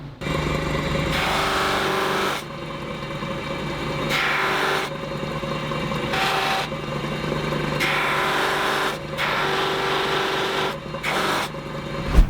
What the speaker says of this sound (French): Je vais polir les petites têtes de vis, ici et là, à la frotte cousue, avec une pâte à polir qui va la rendre miroir